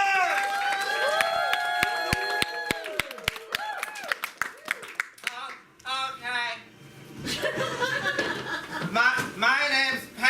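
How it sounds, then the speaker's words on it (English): Audience at an improv theater show gives a burst of clapping and laughter, a brief round of applause mixed with cheering and chuckles, while voices talk over and after it. "After a warm round of applause!"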